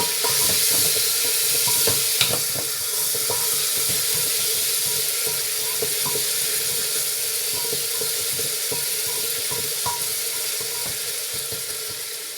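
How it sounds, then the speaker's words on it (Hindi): Ginger garlic paste frying in a pan, a constant loud sizzle with scattered clicks and scrapes of stirring throughout. "ये मैं अदरक और लहसुन का पेस्ट पहले डालूंगी। ये भूनेंगे।"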